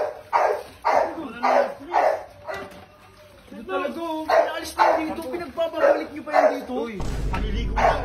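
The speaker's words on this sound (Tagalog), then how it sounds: "Aso ang ingay." A dog barks repeatedly at close range in a quick run of sharp barks, pausing briefly and then barking again, while people talk nearby.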